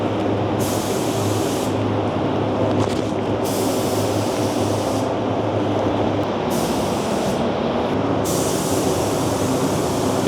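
A spray gun lays down a full wet coat of paint in a booth, a loud continuous hiss that pauses briefly a few times between passes.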